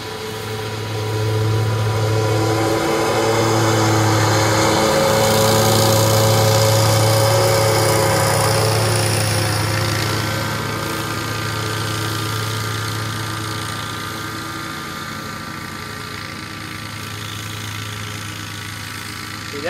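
A Super Z zero-turn lawn mower's engine runs steadily and loudly at close range, holding a strong droning hum while mowing bumpy grass, then easing slightly softer toward the end.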